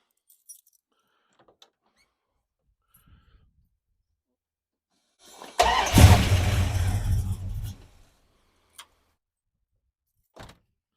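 Dodge Dart engine on a new battery cranks briefly and fires, a single loud burst of about two and a half seconds that cuts off, with faint clicks and knocks before and after in an otherwise quiet space.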